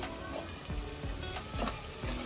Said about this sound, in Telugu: అల్లం వెల్లిపాయ ఇవన్నీ ఫ్రై కావాలి.